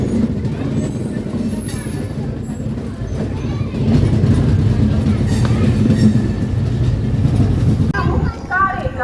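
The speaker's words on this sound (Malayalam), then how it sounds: "ട്രെയിൻ ഇപ്പോൾ തഞ്ചാവൂർ ജംഗ്ഷൻ റെയിൽവേ സ്റ്റേഷനിലേക്ക് എത്തിയിരിക്കുകയാണ്" Vasco-da-Gama Velankanni Express pulling into Thanjavur Junction, a steady loud rumble of rolling wagons with rail clatter and a brief shift near the end, voices talking faintly over it.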